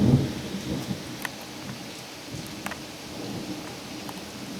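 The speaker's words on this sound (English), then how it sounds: "Hear that thunder? We've been hearing that sound for about 2 weeks now." Thunder rumbles with steady rain during a storm in Austin, Texas, a low roll at the start and sharp crackles later, the rain hissing continuously underneath without any voices.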